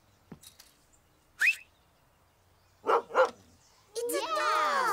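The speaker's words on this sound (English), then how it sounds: "It's a dog!" A cartoon dog gives a few short, clear barks spaced apart in a quiet room, followed by bright excited voices chattering over the end.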